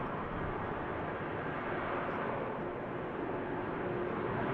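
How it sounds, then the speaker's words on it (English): Ryanair airliner departing Manchester Airport, a steady broadband engine roar from a distant jet that stays even and sustained throughout, with no talk. "Just catch this Ryanair depart."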